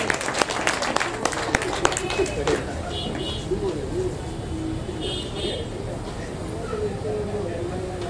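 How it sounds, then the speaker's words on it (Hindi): Applause from an audience welcoming a guest to the stage at an award ceremony honouring a journalist, with dense claps loudest over the first seconds and then a broad wash of crowd noise, as voices talk and a bird chirps faintly. "एक बार जोरदार तालियों से उनका स्वागत करें मंच पर"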